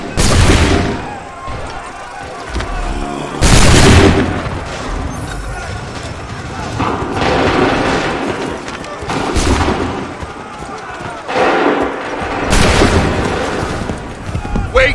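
Volleys of musket and cannon fire crash out across an Assassin's Creed 3 battlefield, several loud booming salvos at intervals with rolling echoes and battle noise between them, and shouting voices heard beneath and between the shots.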